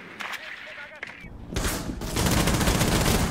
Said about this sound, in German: Hier fallen die ersten Schüsse schon durch die Wand